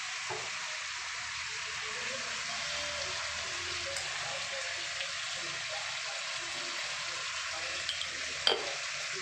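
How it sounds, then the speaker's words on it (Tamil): Lemon rice being stirred and mixed in a pan, a continuous soft sizzle with scraping and shuffling of the rice, and a brief clatter near the end. "இந்த மாதிரி எடுத்து கலந்து விட்டுக்கணும்."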